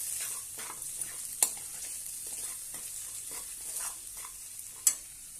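Green chilies, red chili powder and salt for shepu bhaji are sautéed in a pan, a steady sizzle under repeated scraping stirs, with two sharp clinks of the spoon against the pan.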